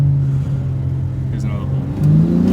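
An Imola Red BMW G80 M3 with an equal length mid-pipe exhaust rumbles loudly and steadily at close range, its note climbing briefly near the end, while someone talks over it.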